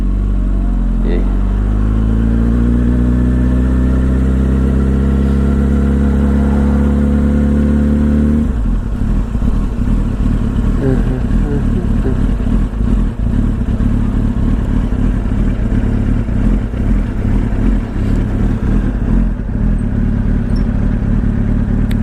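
A Yamaha R1 racing motorcycle built for AMA pro racing, with Öhlins forks and a quarter-turn throttle, idles loudly and close, then revs up in a rising run before settling into a rough, throbbing, sustained engine roar.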